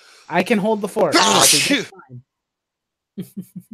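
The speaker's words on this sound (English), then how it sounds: "It's got quite the sneezing going on." A few short, sharp sneezes burst out in quick succession after a stretch of someone talking and a pause, close and fairly loud, during a casual live chat.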